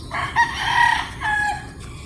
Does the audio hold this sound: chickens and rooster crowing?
yes